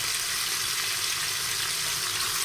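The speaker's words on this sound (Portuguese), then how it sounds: "Vamos dar uma dourada nessa carne antes de colocá-la para cozinhar." Sun-dried beef browns in bottle butter in a hot pan, a steady, dense sizzle and crackle that holds evenly throughout, close and without talk.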